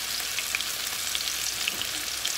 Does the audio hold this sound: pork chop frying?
yes